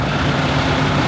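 A truck engine running at idle, a steady low rumble and vibration close by, continuous and even throughout with no voices.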